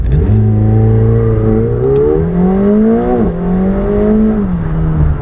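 A McLaren 720S accelerates at full throttle, its loud engine note climbing steadily through rapid gear shifts with dips between them, heard up close from inside the car with no talking.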